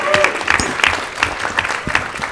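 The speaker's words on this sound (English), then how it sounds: "So I just want you all to give yourselves a round of applause." Applause from an audience closing a pitch competition at an HBCU maker showcase, a steady wash of many hands clapping at moderate loudness, with a voice talking over it.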